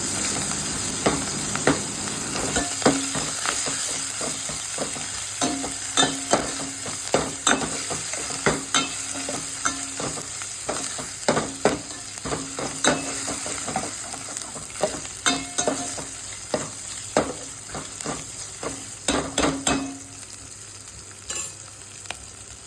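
Ginger garlic paste and turmeric sizzle in a pan for a tomato rasam, a steady hiss broken by many rhythmic, sharp spoon scrapes and clacks as the mixture is stirred, close and fairly loud with no talking.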